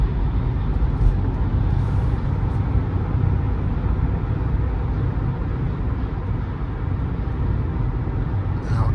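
A 2024 Buick Envista subcompact SUV cruising on a highway at about 76 mph, with a steady, continuous low road and engine rumble and mild wind noise holding constant throughout, with no voices.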